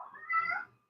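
A single cat's meow, about half a second long, close and moderately soft, rising then trailing off into quiet, with no talking.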